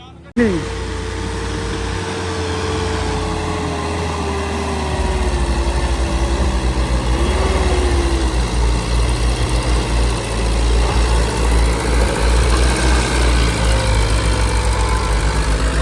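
Deep, steady engine rumble of a tractor running nearby, throbbing low and constant, with a faint whine early on.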